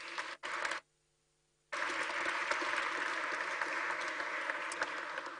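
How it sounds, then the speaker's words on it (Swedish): Applause from a seminar audience in Sweden after a housing-policy report presentation: a short burst of clapping that cuts off abruptly for about a second, then resumes as a full, steady wash of many hands. "En varm applåd."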